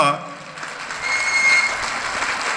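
Political rally crowd breaking into applause, a dense wash of clapping that swells and holds steady after a voice addressing them fades out.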